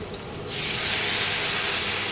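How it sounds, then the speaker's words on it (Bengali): Water hits a hot pan of potatoes and eggs cooking for a Bengali potato-egg chorchori. After a quiet half second, a sudden loud, broad steam hiss bursts up and holds steady to the end. "এবারে জল দিয়ে দিচ্ছি"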